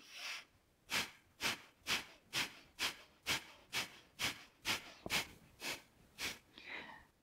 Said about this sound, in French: on peut faire une respiration de feu beaucoup plus rapide